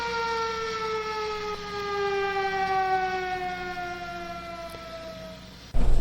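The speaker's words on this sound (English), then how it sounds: "There were sirens wailing in the background" A single siren wails steadily, its tone slowly sliding lower, before a sudden loud thump at the end.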